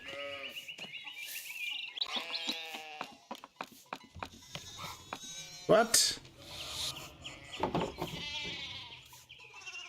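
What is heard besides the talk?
sheep bleating in the video game Pentiment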